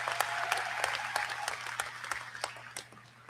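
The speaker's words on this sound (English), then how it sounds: "give them a round of applause" A university commencement audience applauds in a steady wash of clapping, with individual claps distinct, fading slightly toward the end.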